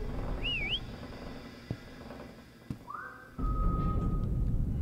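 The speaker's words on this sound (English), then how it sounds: "Press Q to whistle." A brief wavering whistle sounds in a video game, followed by a rising tone that holds as a flat note, all over a dense rumbling game soundscape.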